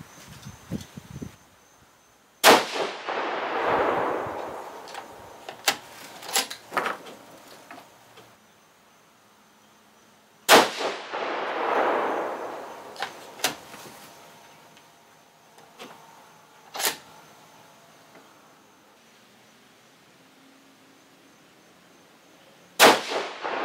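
Rifle shots from a 6.5 Creedmoor loaded with 140-grain ELD-M bullets and H4350 powder, three loud sharp reports spaced several seconds apart, each with a long rolling echo decaying behind it, plus a few small clicks and clanks between shots.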